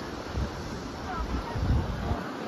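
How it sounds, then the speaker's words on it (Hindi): Sea surf and cool wind on Yangma Island off Yantai, Shandong, China: a steady blustery roar of wind buffeting the microphone with waves washing underneath. "अच्छा समुद्र, ठंडी हवा, मौसम भी अच्छा है।"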